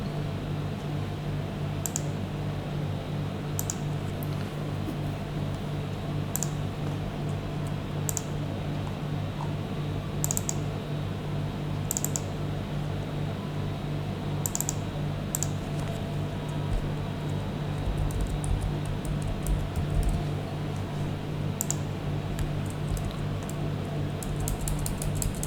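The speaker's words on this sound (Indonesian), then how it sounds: "Saya ketikkan PHP seperti ini, lalu saya simpan." Someone types PHP code on a computer keyboard, producing sparse, light key clicks over a steady fan-like hum that runs throughout.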